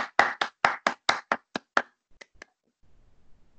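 Handclapping in a live online class meeting, about nine sharp, distinct claps in an uneven rhythm over two seconds, followed by a couple of fainter taps and quiet background noise.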